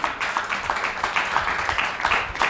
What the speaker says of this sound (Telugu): గట్టిగా చప్పట్లు కొట్టండి ఒకసారి.